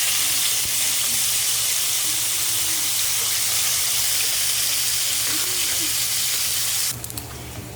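Pork strips sizzle and crackle loudly in hot oil with pepper, a dense steady frying hiss that continues close up before a clatter near the end.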